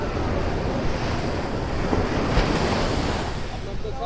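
Sea waves break and wash up onto a beach in a continuous loud surge, with steady wind buffeting the microphone throughout.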